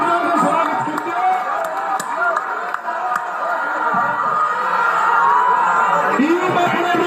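A large gathered crowd claps and cheers in welcome at a spiritual rally: dense, sustained applause with scattered whoops and shouts, loud and continuous throughout.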